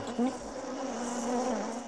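A steady insect buzz like bees, a close, droning hum that holds at an even pitch and level throughout with a slight swell near the end.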